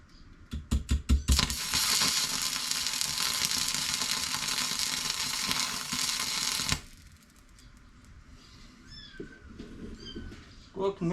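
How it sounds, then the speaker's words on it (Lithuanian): Kittens in a garage workshop give a few faint, high mews near the end, after a long, loud welding hiss on a turbocharger cuts off. "Pas manęs garaže katinukų įsigijau."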